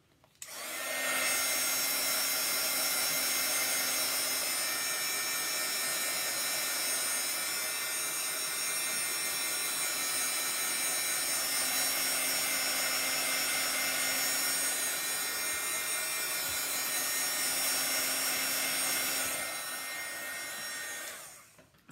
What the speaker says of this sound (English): Let's just get out my little heat gun here